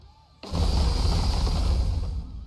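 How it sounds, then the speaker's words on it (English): Gunfire in the video game Nikke: a sudden dense burst of rapid shots kicks in and pounds on loudly without pause, fading slightly at the end. "Dorothy's gunfire lashes in from all directions, hitting her mark"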